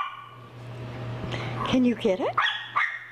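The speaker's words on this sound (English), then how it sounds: "Oh, you don't need to bark, little one down there." A small dog gives a few sharp, high yips and barks close by, mixed in with a voice talking over a steady low hum.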